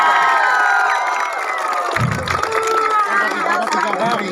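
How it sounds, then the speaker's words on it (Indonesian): A crowd of alumni at a school reunion for a junior high class of 37 years ago cheers and applauds loudly, with whoops and an emcee's voice over the sustained roar. "Iya, tepuk tangan sekali lagi."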